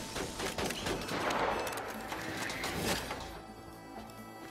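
Rapid gunfire in the Borderlands 2 video game, a dense crackle of quick shots and impacts over a busy game backdrop, tapering off toward the end, moderately quiet.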